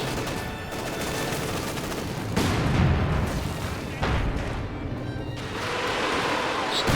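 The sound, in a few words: Katyusha artillery bombardment in video game Company of Heroes 2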